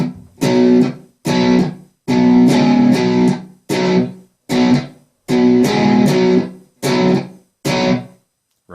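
Electric guitar chugging a choppy reverse-boogie riff on the bottom two strings, short punchy chord stabs separated by brief gaps, close and fairly loud.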